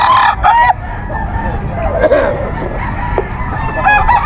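A rooster crows loudly and close at a pet market, a brief strained call over busy background chatter and other fowl sounds.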